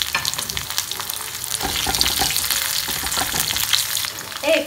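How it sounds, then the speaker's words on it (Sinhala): Dried chillies fry in hot oil for a Sri Lankan dhal curry (parippu), giving a loud, continuous crackling sizzle close by, broken by stirring scrapes and no voices. "ඔය ටික වැඩිගෙන එද්දි අපි අපේ වේලිච්ච මිරිස් ටික මේ තෙල් එකට එකතු කරගමු"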